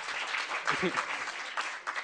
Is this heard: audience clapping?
yes